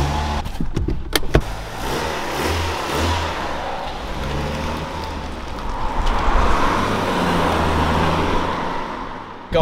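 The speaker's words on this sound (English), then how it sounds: "let's take this Astra out for a little test drive" A Vauxhall Astra drives along the road, its engine humming low and swelling as it accelerates, with a few sharp clunks near the start.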